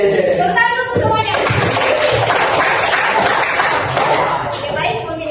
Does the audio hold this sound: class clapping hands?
yes